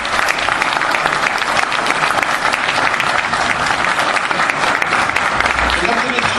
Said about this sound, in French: Je vous demande d'accueillir avec vos applaudissements Bernard Monod